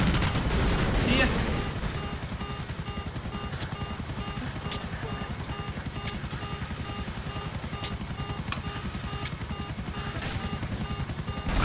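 A helicopter in a GTA multiplayer game keeps up a steady rotor drone for the whole stretch, with faint bursts of gunfire and booms mixed in and voices talking over it.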